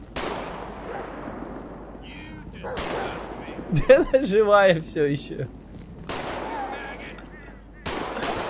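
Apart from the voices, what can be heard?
gunfire in video game GTA 5 Redux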